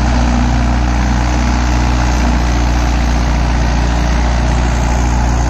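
Mahindra Yuvo 575 4WD tractor engine working in a field, a loud, steady low diesel rumble with a constant drone, no break or change throughout.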